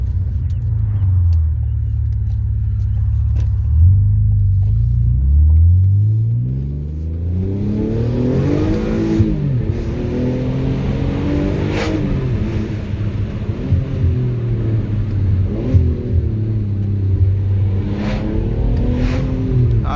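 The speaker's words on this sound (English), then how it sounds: "That exhaust sounds fantastic" An Alfa Romeo 147 GTA Selespeed's Busso V6 revs hard and accelerates, its exhaust note climbing and falling through gear changes, loud and close throughout.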